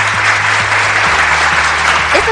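Dense, steady applause from a crowd, loud and continuous throughout with no break.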